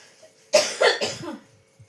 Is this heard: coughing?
yes